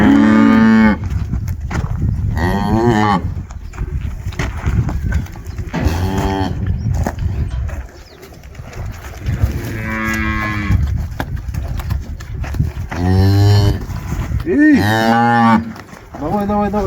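A cow that calved today moos repeatedly during a difficult milking, with several loud, drawn-out calls close by, some rising and falling, among other farm noise.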